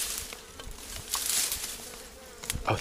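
Honeybees buzz around a beehive, their wings making a continuous close drone with individual bees zipping past the microphone.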